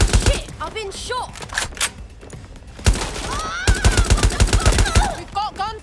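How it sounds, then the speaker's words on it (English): Gunfire in the video game Watch Dogs Legion: rapid bursts of shots, then a fast run of evenly spaced reports, loud and close, with siren-like tones and brief voices mixed in. "We've got gunfire."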